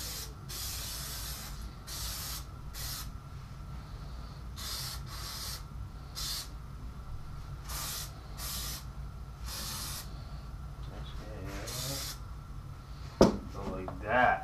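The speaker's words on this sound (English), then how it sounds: "I guess I'll do my second coat of Plasti Dip." Plasti Dip sprays onto a car windshield in repeated short hissing bursts, steady and close, with faint voices and a brief clatter near the end.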